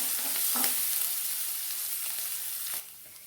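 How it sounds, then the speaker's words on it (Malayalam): Chopped ginger, green chillies and curry leaves fry in hot oil with a dense, steady hiss, plus a stir or two, close by; the sizzle drops off sharply near the end. "ഒരു ചെറിയ കഷ്ണം ഇഞ്ചി ചെറുതായിട്ടരിഞ്ഞതും 2 പച്ചമുളക് ചെറുതായിട്ടരിഞ്ഞതും കുറച്ച് കറിവേപ്പിലയും കൂടെ ചേർത്ത് ഇളക്കി കൊടുക്കാം."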